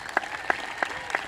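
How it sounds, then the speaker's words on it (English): Sparse, scattered handclaps from a graduation audience in a high school ceremony hall, a few distinct claps spaced apart at moderate distance, fairly faint with no talking. "Could we give just one more round of applause for our speakers, Catherine, Savali, and Julia?"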